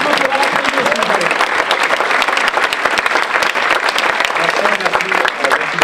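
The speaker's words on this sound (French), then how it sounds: "vous pouvez vous applaudir" An audience at an awards ceremony applauds loudly and continuously, a dense wash of clapping that fills the whole stretch without a break.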